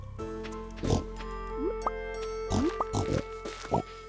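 Pigs on a Stardew Valley beach farm give short, bright oinks in a scattered sequence, each squeal quick and rising, alongside soft plopping and dripping sounds against a quiet background.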